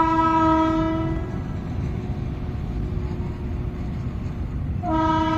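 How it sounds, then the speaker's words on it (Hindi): A very long train rolls past nearby with a steady, dense rumble and clatter, and loud sustained horn blasts sound at the start and again near the end. "और देखिए उधर ट्रेन भी आ चुकी है"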